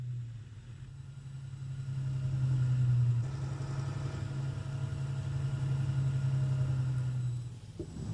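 Famo Zugmaschine half-track tractor pulling a V-2 launching base trailer at a launch site, a steady droning engine that swells and eases, moderately close and continuous with no talk.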